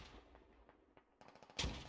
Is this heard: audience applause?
no